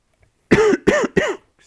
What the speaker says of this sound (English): Excuse me for coughing.